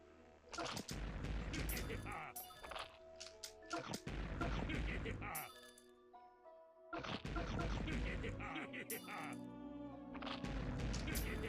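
Explosions and bursts of gunfire-like blasts in a Bahamut challenge video game, repeated loud hits in clusters with a brief quiet gap, mixed with game music and speech.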